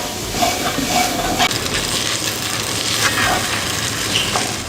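Onions caramelizing in a pan with garlic and thyme for a cheeseburger give a steady, close sizzle with soft hiss, broken by a few light clicks and stirring scrapes.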